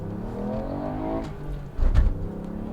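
A Ford Puma ST compact SUV pulls away hard, the engine note rising steadily in pitch, then a brief louder burst of low rumble near the end, heard from nearby with no talk.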